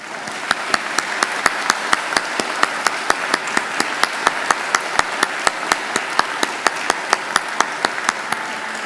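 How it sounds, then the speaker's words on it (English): A large graduation ceremony crowd gives sustained applause, dense clapping filling the hall with sharp individual claps standing out in a steady rhythm, continuous for the whole stretch with no speech over it. "give them a hearty round of applause"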